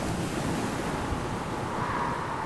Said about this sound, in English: The wind blew hard. The waves grew huge.